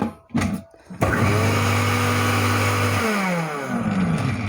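A Miyako electric meat chopper starting up after a couple of handling knocks, then a loud steady motor whine close by that drops in pitch and shifts in tone partway through as it chops.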